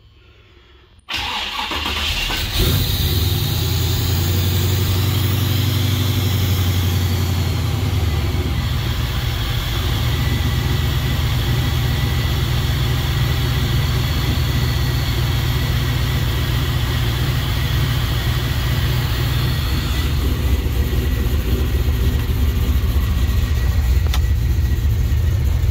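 A 1978 Pontiac Firebird Formula with newly redone exhaust cranks and fires on a very cold start, then settles into a steady, loud, rumbling idle that runs on for over twenty seconds.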